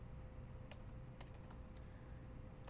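Computer keyboard typing as a physics equation is entered, a handful of light, close key clicks spaced irregularly over a quiet steady hum.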